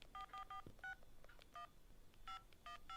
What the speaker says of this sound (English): the keyboard on her phone is making noises like she's dialing a phone